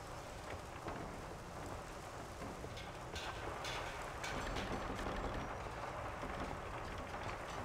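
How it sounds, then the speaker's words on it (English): Steady rain falls in the Mafia video game, a dense broadband hiss that runs the whole time, with some louder bursts of drops partway through and no talking. "Is the rain sounds too loud, by the way?"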